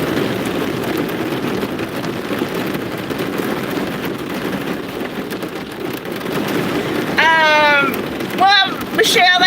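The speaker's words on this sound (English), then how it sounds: "Can y'all hear how hard the rain is coming down?" Heavy rain pours down in a dense, continuous roar throughout, with a voice speaking briefly near the end.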